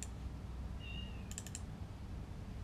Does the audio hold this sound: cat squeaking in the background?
yes